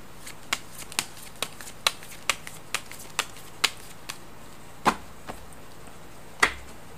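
Tarot cards shuffled by hand for a daily fortune reading, giving a string of crisp, close riffling snaps at an uneven pace, with a couple of louder flicks near the end and no voices.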